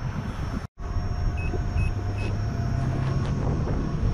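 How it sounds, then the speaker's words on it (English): Three short high low-battery warning beeps from a Gotway Monster electric unicycle sound in a row over loud, constant wind and road rumble. "Monster just started beeping"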